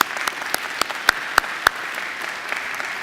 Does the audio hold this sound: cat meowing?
no